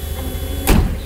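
An electric window motor whirs steadily inside a Mazda RX-7 or Nissan 370Z sports car, closely miked, with a short thump of the door closing partway through.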